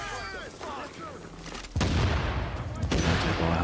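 A deployed turret in The Division fires at an enemy boss. Bright chirpy game tones come first, then a sudden loud, sustained barrage of dense gunfire with sharp metallic pings near the end.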